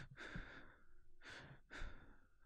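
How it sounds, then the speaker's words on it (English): Mario takes three slow, deep, airy breaths in a full-cast Sonic the Hedgehog audio drama. The breaths are quiet, close and evenly spaced, with nothing else heard. "Mario keeps reaching, breathing deeply."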